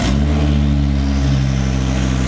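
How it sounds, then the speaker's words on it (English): A 2004 Volvo V70 R with its exhaust removed revs loudly and close, a raw, steady engine drone with strong low harmonics throughout, no talking. "let's listen to this bad boy with no exhaust"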